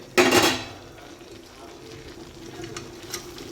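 Fried tubers hit a hot pan for chilli over a full flame, giving a sharp clattering splash that settles into a low, steady stir-fry sizzle, close by.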